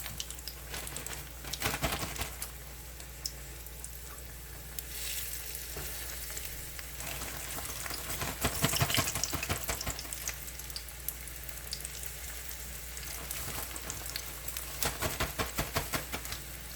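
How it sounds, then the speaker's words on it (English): Flour-coated oxtails frying in hot grease, a fairly quiet but continuous crackle rising into denser bursts of spattering pops now and then, close up with no speech. "Oxtails in the flour, grease nice and hot. We're just cooking."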